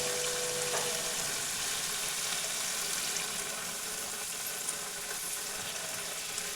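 Water hits a pan of spice paste that has been fried in oil for a dai paneer cauliflower curry, setting off a steady, bright sizzle that hisses on without pause.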